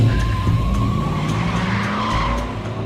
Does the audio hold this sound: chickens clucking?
no